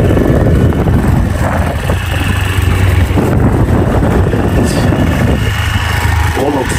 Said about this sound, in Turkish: Tarihi ormanları motorla gezmeye devam.